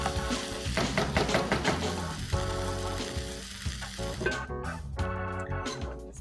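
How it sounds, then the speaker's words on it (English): Spicy mutton pepper fry stirred in a pan over high flame, with a dense close sizzle and repeated scraping, clattering stir strokes that ease briefly midway before picking up again. "just keep stirring it so it doesn't stick to the bottom of the pan"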